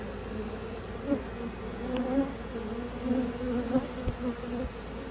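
Honeybees buzz around a Layens hive in a steady, layered drone, the pitch wavering as individual bees pass close by, with no voices.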